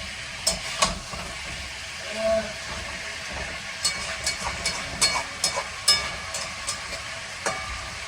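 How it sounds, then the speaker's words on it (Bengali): Chicken frying on high flame with green chili and coriander gives a steady hiss and sizzle, broken by scattered sharp crackles and stirring clicks, with no speech. "চিকেনটা দেওয়ার পর কিছুক্ষণ একটু বেশি আঁচ, মানে আঁচটা বাড়িয়ে রাখলে চিকেনগুলো বেশ ভাজা ভাজা হয়ে যায়।"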